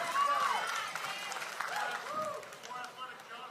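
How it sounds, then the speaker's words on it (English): A crowd at a professional pickleball match claps and cheers in a brief burst that fades, with a commentator talking over it. "And the crowd goes wild."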